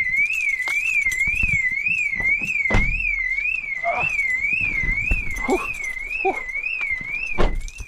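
A BMW car alarm wails steadily with a rapid warbling, rising-and-falling tone throughout, close and loud, over scattered clunks and a few door or body knocks.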